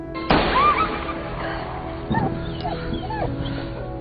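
A dog yelps and barks a few times, with whimpering cries amid rustling and a bump.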